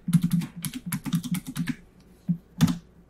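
Keystrokes of a password typed on a computer keyboard during a software install, a quick burst of close, crisp clicks, a pause, then a few final taps.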